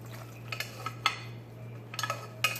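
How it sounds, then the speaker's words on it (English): A utensil scrapes and clinks against a pan while chicken, shrimp and broccoli alfredo pasta is stirred, with a few sharp metallic taps scattered over a steady low kitchen hum, fairly quiet and close. "Maybe you don't have to stir it that much, Khalil"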